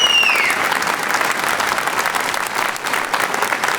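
A studio audience at the Armenian TV comedy show Arajin Akumb bursts into loud, sustained applause, with a brief sliding whistle over the clapping at the start.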